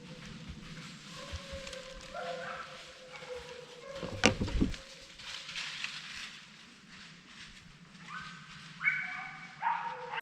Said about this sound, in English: The hounds are in front of me and just randomly jumping deer out of this thicket as they're trailing through on a bear scent.